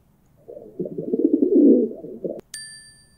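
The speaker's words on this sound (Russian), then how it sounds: "Покажи голубя. У него есть два крылышка и две лапки." A pigeon coos once in a low, close, throaty rolling call lasting about two seconds, followed by a bright metallic ding.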